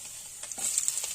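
Finely chopped garlic frying in hot oil for vegetable chowmein, a steady close hiss with a few brief stirring scrapes toward the end.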